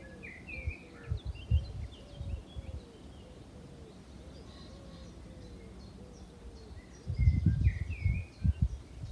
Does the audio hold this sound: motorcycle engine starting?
no